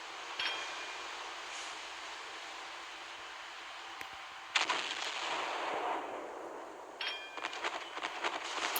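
Naval artillery broadside in the video game Naval Creed, heard as two sharp blasts a few seconds apart, each a sudden loud crack with a rolling, noisy tail, over a steady hum of game ambience.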